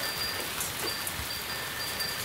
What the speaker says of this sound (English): I don't think you could see it, but that's hail.